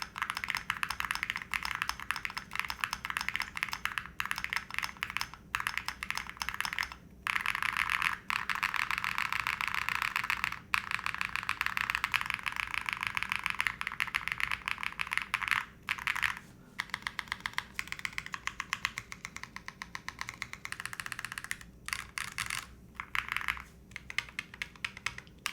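Keys clack steadily on a retro video game themed Game 1989 mechanical keyboard with PBT keycaps, a close, dense run of typing with brief pauses and occasional heavier spacebar strikes, no talking.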